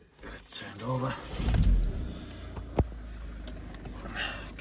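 A Volkswagen Eos 2.0 TDI cabriolet diesel turns over with a short starter whirr that catches into a throaty burst, then settles into a steady low idle while someone speaks over the start.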